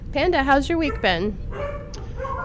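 Dogs bark in a room, a run of loud close yelping barks with some whimpering that overlap a voice as he speaks.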